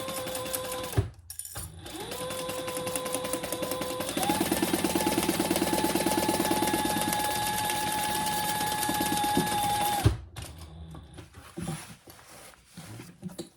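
Sewing machine stitching around the sides and top of a fabric tote bag, a loud close steady mechanical whir that runs for about nine seconds, picking up speed partway, then stops with some handling noise.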